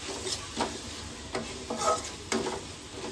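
A spoon stirs ground spices in a pan while a drumstick masala gravy is being cooked. The scrapes come in several short bursts, close and fairly soft, with a faint sizzle underneath and no talking.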